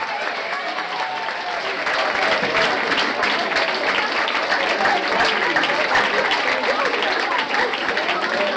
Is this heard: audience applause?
yes